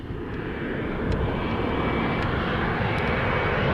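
Airbus A319 jet engines roaring steadily at Montego Bay airport in Jamaica, a loud, continuous broadband rumble that holds constant and close throughout, with no voices.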